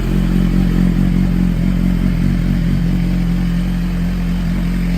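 A 2017 Suzuki GSX-R1000R motorcycle engine idles just after an oil change, a loud, steady, close rumble with a mechanical clatter and no voices.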